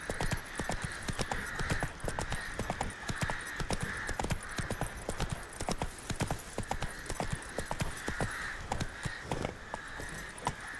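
Roach the horse gallops in The Witcher 3, giving a steady, rhythmic run of hoofbeats at moderate volume, close and continuous, with a faint bird caw in the background.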